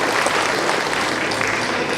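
A steady, dense round of audience applause at a year-end gathering of a local party chapter, loud and close, sustained throughout.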